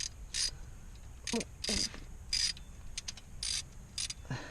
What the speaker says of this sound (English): See how I'm just turning the socket right now?